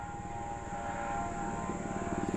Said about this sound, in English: Daggum helicopter.